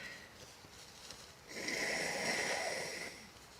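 A person blows their nose once, a breathy, rushing snort lasting about two seconds, close and moderately loud against a quiet room.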